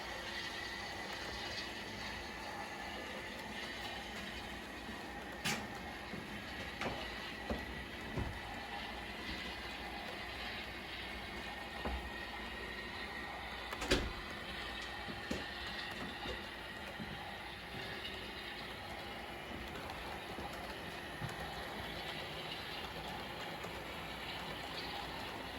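HO scale model train cars rolling around a 48-inch radius curve while pulling coal loads, with a steady close mechanical whir and rattle, faint grinding hinting at a dragging brake, and scattered sharp clicks and clacks from the wheels.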